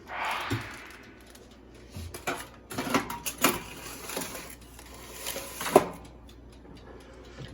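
A tray of cinnamon crunch toast goes into an oven with a series of scattered metallic clanks and rattles, close by, separated by quieter pauses.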